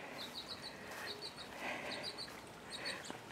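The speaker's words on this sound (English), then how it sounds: "Little birdies in the feeder." Small birds chirp and tweet at a backyard feeder, quick high twittering calls that repeat in short bursts over steady faint outdoor background noise, with no talking.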